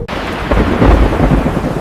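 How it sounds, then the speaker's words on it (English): A loud thunderstorm near a beach house: a deep rumble of thunder swells over steady heavy rain, close and powerful, with no voices. "The storm is getting stronger."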